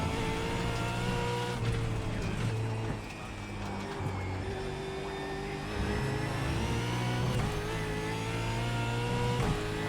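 Australian Supercars lapping Brands Hatch in the iRacing sim, a loud continuous V8 engine note rising and falling through gear changes and corners, with occasional tire scrub and no talk.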